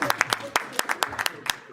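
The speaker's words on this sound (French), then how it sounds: "On peut applaudir mon bureau." A handful of people clap at a diaspora association meeting, about a dozen sharp, uneven claps spread over under two seconds, close and fairly distinct, with no voices over them.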